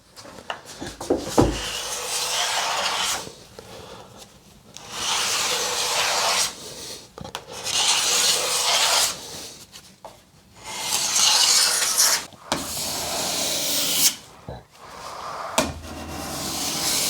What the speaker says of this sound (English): So this is concave, so I can use this rounded part of the scraper.